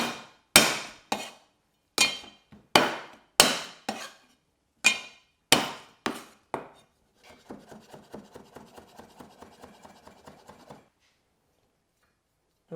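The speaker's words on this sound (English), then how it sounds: "a little bit of ginger, getting roughly chopped is fine" A kitchen knife roughly chops ginger on a cutting board. It starts with about a dozen loud, spaced thuds, then switches to a quicker run of lighter, evenly paced taps before stopping.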